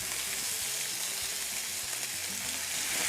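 Chicken for tacos sizzles loudly in a hot pan as it is flipped, a dense, steady frying hiss with faint scrapes and clinks beneath it, close and without talk.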